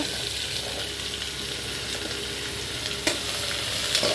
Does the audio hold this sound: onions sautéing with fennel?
yes